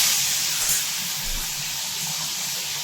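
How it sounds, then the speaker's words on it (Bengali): Dried loitta fish, rubbed with salt and turmeric, frying in a pan makes a dense, continuous hiss. The spitting sizzle stays close and fairly loud for the whole stretch, with no talking. "শুক্তো মাছগুলো নুন হলুদ মাখিয়ে এবার ভেজে নেওয়া হচ্ছে।"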